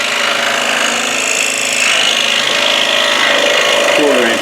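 A saw blade cuts through a stack of thick wood pieces, a dense, continuous rasping buzz holding close and steady throughout with no pauses.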